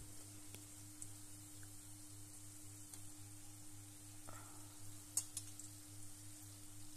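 Chitti madatha kaja, small folded sweet-shop-style pastries, fry in hot oil on a high flame, giving a steady, faint sizzling hiss throughout with a low hum beneath and a few small clinks near the end.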